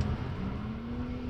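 A stock 130 horsepower car drifts through a turn on the handbrake, its engine holding a steady, close, loud drone with a low hum and no talk over it.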